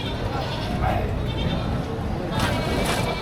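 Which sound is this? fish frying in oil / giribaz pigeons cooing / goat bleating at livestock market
goat bleating at livestock market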